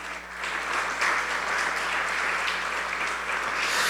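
A church congregation applauds loudly and continuously, sustained dense clapping that fills the space for several seconds.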